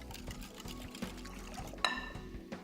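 Water poured into a pan holding a chickpea flour and yogurt curry mixture, a soft continuous pour close by, with a brief clink near the end.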